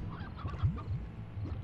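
A stony hen clucks in the video game Slime Rancher, a quick run of short, close honking squawks repeated several times over a low background.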